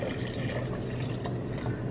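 Water is poured into a blender with a steady close splashing and bubbling, an even liquid flow with slight gurgles and no talk over it.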